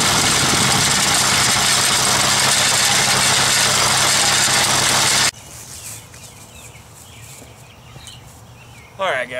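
A tractor engine driving a Ford 515 sickle bar mower runs loud and steady at close range for about five seconds, then cuts off abruptly, leaving quiet background noise and a brief clatter near the end.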